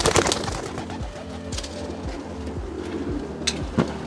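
A female racing pigeon in a Polish breeder's loft coos close by, giving a rapid series of soft, low, falling coos roughly every half second. Occasional sharp knocks and rustles sound in the background.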